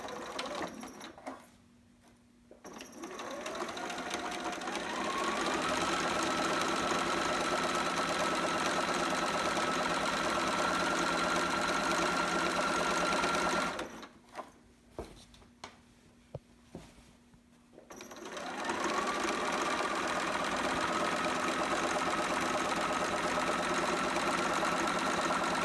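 A sewing machine runs a 1/4-inch straight stitch on a sitter romper in two long, steady bursts of whirring, close and fairly loud, with a quiet pause and some handling noise between them.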